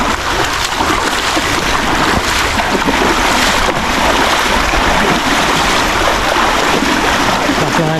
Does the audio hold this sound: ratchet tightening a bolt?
no